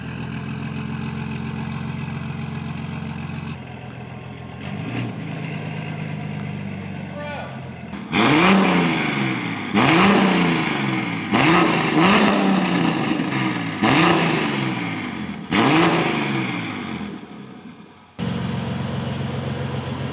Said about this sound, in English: Cold start, little. Can you rev it or no? Yeah, I can rev it.